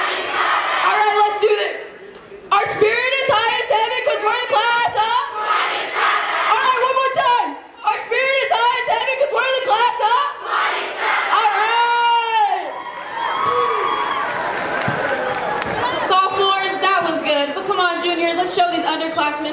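A high school sophomore class shouts its class cheer at a back-to-school gym rally, loud chanted bursts from a crowd with short pauses between phrases and whoops mixed in.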